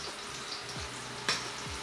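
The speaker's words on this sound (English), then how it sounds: "Stir fry everything." Tomatoes and mixed vegetables stir frying in a wok, a loud continuous sizzle with a brief sharp crackle burst near the end.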